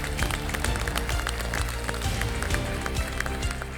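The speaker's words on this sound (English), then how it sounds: "Let's give her a big round of applause" Studio audience applause for a guest chef on a televised cooking competition, a dense sustained clapping wash mixed with background music, steady and fairly loud throughout.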